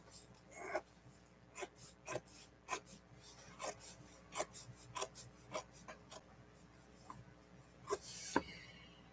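A paper journal page being trimmed along its edge, heard as a string of short, faint, sharp scraping snips at irregular intervals over a quiet room background.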